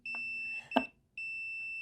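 A continuity tester on the transformer output of a 1940s welder gives a sustained electronic beep, which breaks off for a sharp click and then resumes, clear and close in a quiet room.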